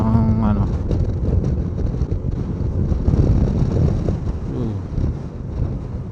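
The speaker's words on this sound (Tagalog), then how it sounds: "Sarap ng hangin dito." Strong wind buffets the microphone during a scooter ride on an ADV160 through the countryside, a loud, constant low rumble of gusts with engine drone beneath and a brief voice at the start.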